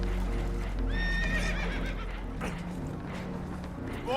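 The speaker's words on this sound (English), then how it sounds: "Horses are spooked" Spooked horses in Red Dead Redemption 2 let out several rising, shrill whinnies over a low rumbling background with some hoof clatter, the calls spaced a second or so apart and fairly close.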